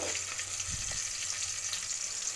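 Vegetables frying in oil in a pan while cooking pulao, a steady close hissing sizzle running throughout, with a brief soft stir or clatter near the start.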